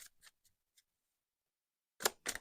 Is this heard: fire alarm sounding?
no